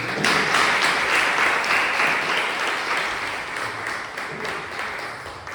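A church congregation applauding during a service: loud, continuous clapping from many hands, full and sustained throughout, easing slightly toward the end.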